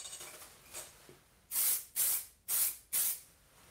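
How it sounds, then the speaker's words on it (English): An aerosol can of fixative sprays onto a pencil car sketch in four sharp, close hissing bursts of about a third of a second each, separated by brief pauses. "Okay, now let's spray fix."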